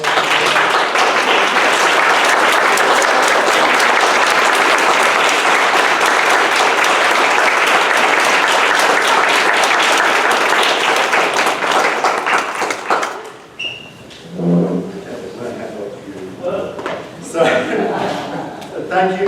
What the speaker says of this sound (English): Can we have all the students who are here stand for a round of applause?